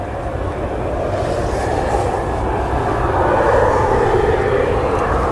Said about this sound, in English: that Ryanair is coming back around